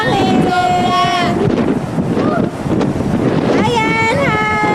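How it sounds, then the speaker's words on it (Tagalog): Strong wind buffets the microphone on the deck of a ferry from Manila to Capiz, a constant loud roar with voices talking over it. "Ang lakas ng hangin, nadadala ako."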